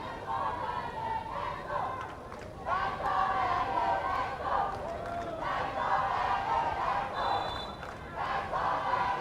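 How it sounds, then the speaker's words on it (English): Fans at a football game cheer and roar as a loud, surging crowd with shouts and chatter, swelling in waves, while a commentator talks over it. "The fans are cheering their team to victory."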